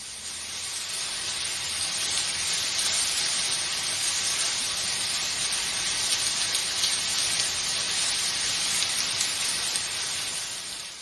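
Steady rain falls at night, a dense, even hiss of drops that swells in and holds constant for the whole stretch, with no voices.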